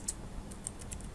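Brief quick taps on a computer keyboard while typing into a web browser, a few light clicks close by.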